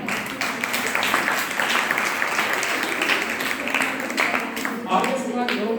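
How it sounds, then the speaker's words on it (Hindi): Steady clapping from an audience at a computer center opening ceremony runs throughout with a few louder swells, with talk underneath. "तालियां बजाएंगे दोनों से"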